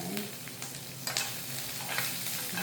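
Anchovies being stir-fried in a pan for a spicy green chili anchovy dish, giving a steady, close sizzle with a few sharper scraping strokes of stirring throughout, and no talking.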